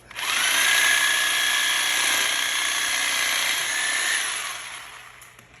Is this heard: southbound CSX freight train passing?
no